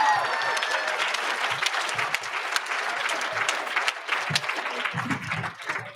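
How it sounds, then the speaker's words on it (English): An audience at a Women's Entrepreneurship Day event applauding, a dense, steady wash of clapping that stays loud for the whole stretch and eases slightly near the end. "Let's give an enormous applause to like some of the most incredible people living today"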